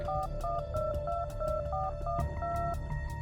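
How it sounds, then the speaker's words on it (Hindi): A phone number is keyed in on a second phone, a steady run of about a dozen quick DTMF beeps in even rhythm, heard up close and alone over a low background hum. "मैसेज में जयवीर का नंबर देखकर उसने अपने दूसरे फोन में डायल किया।"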